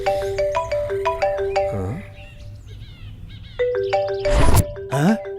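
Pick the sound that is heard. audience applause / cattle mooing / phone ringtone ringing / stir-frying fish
phone ringtone ringing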